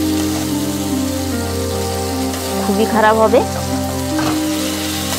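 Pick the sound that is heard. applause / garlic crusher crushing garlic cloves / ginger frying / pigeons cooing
ginger frying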